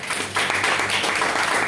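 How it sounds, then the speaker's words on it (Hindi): Audience applause at an RCM business seminar in honor of the company founder, a short dense burst of clapping from a crowd that rises sharply and holds, with no talking. "उनके लिए एक बार ताली सम्मान में आप लोग बजाएं।"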